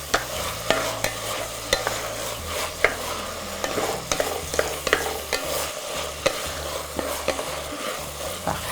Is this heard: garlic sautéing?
yes